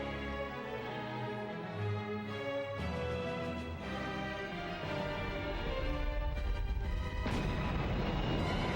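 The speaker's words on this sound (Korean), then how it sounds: "500kg 이상 나가는 거대한 포탄이 성벽을 향해 날아들었다" Huge Ottoman cannon fire at the siege of Constantinople, with a 500 kg shot hurled at the city walls. Heavy booming rumbles and impacts roll under a continuous dramatic orchestral score, loud and sustained, with a sharp burst near the end.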